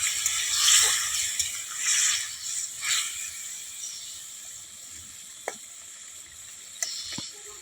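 Tomato being stirred with a metal spatula in a pan of bean, potato and eggplant curry with fried lentil dumplings, giving a steady soft sizzle with a few louder scraping swells early on and occasional sharp clicks later.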